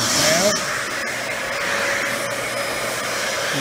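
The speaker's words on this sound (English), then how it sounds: "There's actually a little relief valve that opens when there's too much suction being blocked." A Dyson DC14 Animal upright vacuum runs as its suction relief valve opens under blocked suction: a short rising whistle over a steady, fairly loud motor whine, with no talking.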